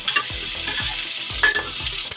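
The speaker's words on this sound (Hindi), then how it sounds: "टमाटर को भी हम इसी तरह से फ्राई कर लेंगे।" Tomatoes and onions frying together for Maggi noodles, a loud close sizzle with rhythmic scraping strokes of a spatula against the pan every half second or so; no talk.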